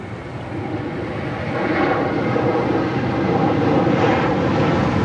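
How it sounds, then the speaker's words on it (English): An SAS Airbus A350 jet airliner on approach to land at LAX gives a broad, steady roar that swells slightly as it nears, heard from a moderate distance with no voices. "SAS A350 heading over here to the south side for landing on 24 right there on the north side."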